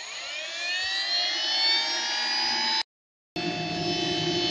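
A Swiwin model jet turbine spins down after cutoff, its high whining tones sliding lower and fading beneath a broad rushing roar, then a brief silence before a steadier, lower engine hum resumes.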